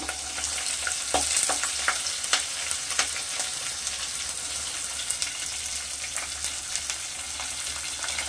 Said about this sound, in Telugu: చిల్లీస్ వేసుకుందాం. అవి కొంచెం వేగిన తర్వాత ఆనియన్ వేసుకుందాం.